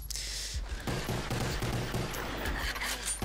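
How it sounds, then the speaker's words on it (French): Rapid automatic gunfire in the video game Black Ops, during a Demolition match on the Hotel map, rattles in dense bursts that carry loud and continuous through the short clip. "Là, il tire comme un malade."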